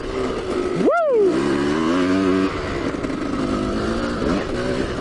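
A KTM 250 EXC dirt bike revs hard as it lifts into a wheelie. A sharp rising rev up close settles into a steady, loud engine drone.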